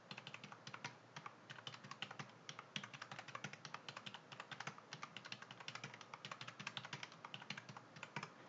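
Rapid, steady keystrokes on a computer keyboard while editing spreadsheet cells, dense clicking taps close to the mic and quiet, with no talking.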